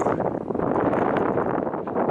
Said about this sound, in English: And it's pretty windy and chilly.